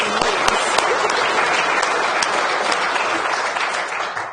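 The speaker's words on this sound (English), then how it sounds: "So can we just give a clap to the people who have been members of 20 years?" A hall audience claps for long-time members at a talk on zero-emission homes, a loud, thick round of applause with a few sharper individual claps that holds steady and then tapers off at the very end.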